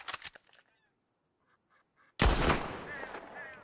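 A single loud gunshot in a Wild West roleplay game bursts out after a quiet stretch and leaves a rumbling tail. Faint goose-like honks come before it, and a brief burst of noise opens the moment.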